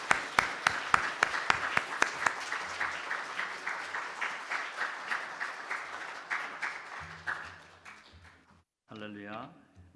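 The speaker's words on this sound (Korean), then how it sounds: "박수 한번 하겠습니다" Church congregation at a Sunday worship service claps, starting with sharp individual claps that merge into steady applause, then fading out as a voice speaks over it.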